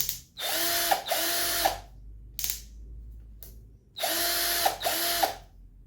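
Clutch collar on a Deko 20V cordless drill being turned, giving loud, close ratcheting clicks in two sustained bursts with short single clicks between them.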